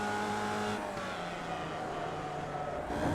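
Formula Vee race car engine in the iRacing simulator, a steady loud buzzing drone held on throttle with a slight dip and rise in pitch, alone without talk.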